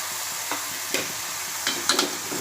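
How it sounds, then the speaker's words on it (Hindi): Onion and dried kolim shrimp frying in a pan, a steady low sizzle with a few soft stirring scrapes and clicks from a spoon, close and alone without talk. "इसे भी मैं प्याज के साथ भूनूंगी।"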